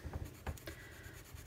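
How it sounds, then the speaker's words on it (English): A colored pencil scratches and rubs across paper while coloring in a doodle, quick close strokes with a dry, gritty texture, quiet and alone. "I'm just gonna color in with my colored pencil"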